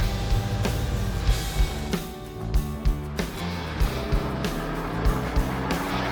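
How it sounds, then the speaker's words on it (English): A custom-built car from a garage build drives along, its engine a steady low rumble with periodic louder bumps or surges, heard close and alone without talk. "This car's driving great."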